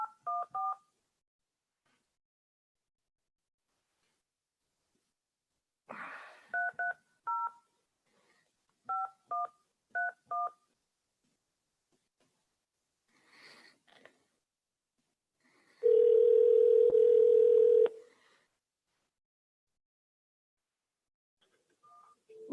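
DTMF telephone keypad tones in short bursts over several seconds, followed by a sustained loud steady tone lasting about two seconds, then another brief tone, with no talking.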